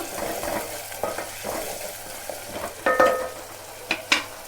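Garlic paste frying in a pan for chicken curry, with a steady soft sizzle broken by stirring scrapes and a few sharper clinks of a spoon against the pan.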